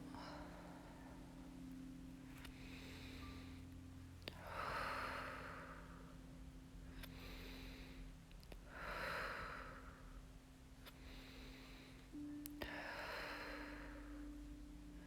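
Slow, deep breaths during a gentle yoga practice, three or four long inhale-exhale cycles spaced a few seconds apart, soft and close, over a faint steady hum.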